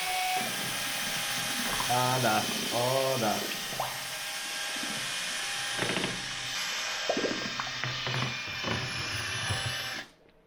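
A whisk stirs a can of Phönix Matt ceiling paint with a steady ratcheting, scraping churn that runs close and continuously, with brief speech in between, until it stops abruptly near the end.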